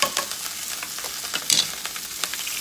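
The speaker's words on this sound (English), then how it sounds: "you kind of fry that down just a little bit." Food fries in a pan for a chicken, kale and mushroom dish, giving a bright sizzling crackle with light stirring scrapes, close and steady over a short stretch.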